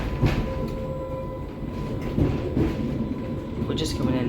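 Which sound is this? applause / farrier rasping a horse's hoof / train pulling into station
train pulling into station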